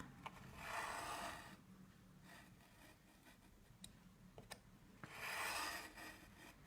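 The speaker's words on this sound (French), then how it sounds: "Donc on place bien la règle et on passe au cutter" Craft knife drawn along a ruler to score card, two soft rasping strokes a few seconds apart with small clicks and taps between, close and quiet.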